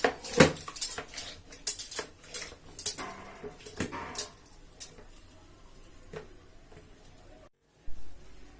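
Eggs beaten in a bowl for a chocolate cake give sharp, irregular clinks and taps of a utensil against the bowl, loudest at the start and growing sparse and faint before a brief silence.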